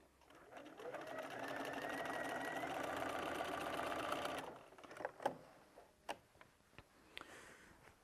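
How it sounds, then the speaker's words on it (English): A sewing machine fitted with a walking foot stitches quilt binding in one continuous, close whirring run of about four seconds, followed by a few sharp clicks and handling knocks. "So I'm just sewing straight down. I've still got the walking foot on."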